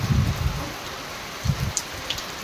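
Rain falls over a farm field, a steady soft hiss broken by a few heavier low patters and drips nearby.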